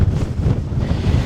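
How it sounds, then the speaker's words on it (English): Strong wind buffets the microphone out on the open moor, a loud continuous roar with gusty swells and no let-up. "not only is it windy"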